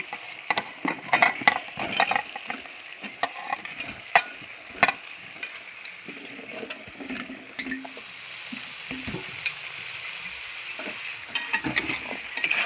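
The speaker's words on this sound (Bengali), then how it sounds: "এবার আমি কেটে ধুয়ে রাখা সবজিগুলো দিয়ে দিচ্ছি" Cut ridge gourd and potato pieces tossed into a pan of spice paste frying in oil, a soft continuous sizzle broken by frequent scraping and clinking stirs, with no talking.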